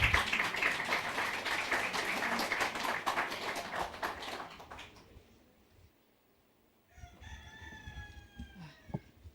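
Dense audience applause fills a memorial mass hall for about five seconds, then thins out and fades into near quiet, with a few faint scattered sounds afterward.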